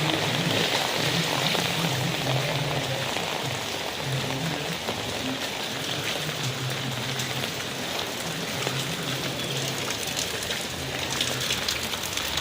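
Heavy rain falling steadily in Velachery, Chennai, as water begins to flood the street, a continuous close wash of drops on surfaces with a faint low murmur underneath.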